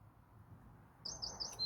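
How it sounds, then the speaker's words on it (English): Songbirds chirp in short, repeated high bursts at a garden allotment beside a polytunnel, starting partway through after a stretch of quiet low background rumble; the calls sound moderately close but fairly faint. "I can hear the birds singing."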